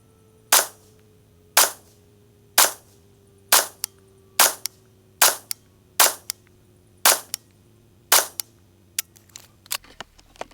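Rifle fire from an Arsenal SLR106F: about nine sharp, loud shots in a steady cadence of roughly one per second, followed by a brief scatter of lighter clicks and clatter.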